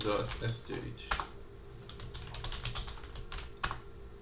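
A computer keyboard is typed on at close range in a quiet room, a quick run of crisp key clicks with a few louder taps toward the end.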